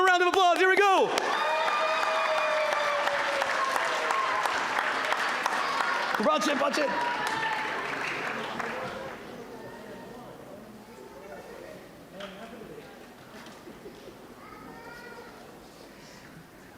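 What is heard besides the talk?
audience applause at closing ceremony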